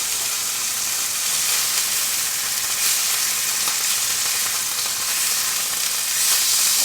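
Tilapia pieces fry in a hot pan with a steady, dense sizzle and crackle that holds loud and even throughout, with no talking.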